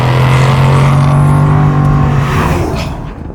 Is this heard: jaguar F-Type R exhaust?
yes